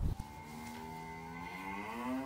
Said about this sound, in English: His barn is full of heavily pregnant cows.